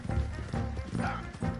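Rhythmic horse hoofbeats in Red Dead Redemption 2 clip-clop in a steady trot, about four heavy thuds spaced across the moment, with a game-like background hum.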